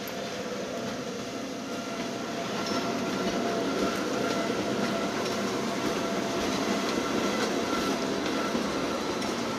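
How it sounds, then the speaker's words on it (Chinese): A mountain train near Zermatt rolls in steadily, its broadband rumble and rail rattle growing louder and closer after a few seconds and holding strong to the end, with no talk over it. "火车上来了"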